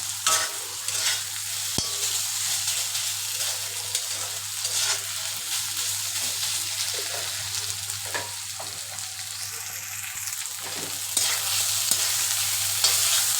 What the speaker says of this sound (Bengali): দেখো ভাজা ভাজা কিন্তু হয়ে আসছে কিন্তু আরেকটু হবে